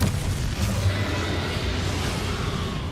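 A Confringo fire spell exploding in the Hogwarts Legacy video game during a fight with Ranrock, a loud sustained rumbling blast that fills the whole moment, no talk.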